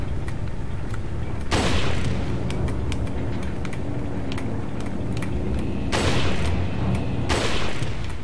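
Heavy booming gunshots from Resident Evil 4 HD, three loud reverberant blasts spaced several seconds apart over a low rumbling game ambience.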